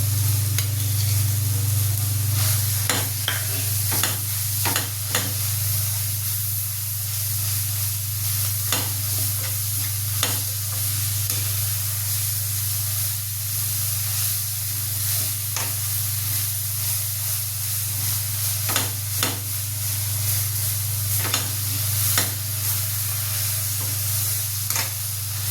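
Red chilli thecha sautéed with cooked vegetables in a pan, a constant close sizzle and hiss over a low steady hum, with irregular scraping and clinking strokes of a spoon stirring throughout.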